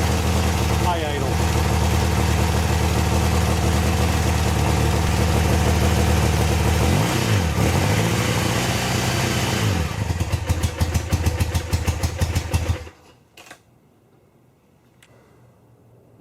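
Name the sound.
car engine at high idle after alternator install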